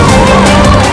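Fire brigade and police vehicle sirens wail loudly at the site of a collapsed under-construction bridge in Valsad, Gujarat, with a wavering tone over dense crowd and street noise for about a second.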